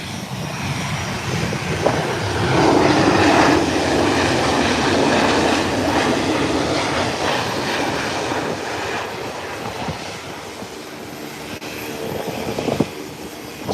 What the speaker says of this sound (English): Here it comes. American Airlines. This should be an Airbus 319.